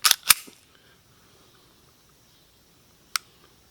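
A S&W Shield 2.0 .45 ACP Performance Center pistol dry-fired, with a couple of crisp mechanical clicks close up at the start and another single click near the end, quiet in between.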